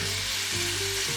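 Vegetables for pasta primavera fry in a hot pan while being stirred, giving a steady, close, dense sizzle with small scraping shifts and no talking.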